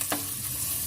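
Finely chopped green chilies frying in hot oil as a tadka for sarson ka saag, a brief loud sizzle with a quick scrape of a spoon at the start.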